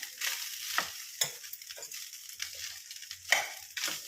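Ajwain (vamu) rice with coriander is stirred and mixed in a pan, producing irregular close scraping strokes with quiet gaps between them.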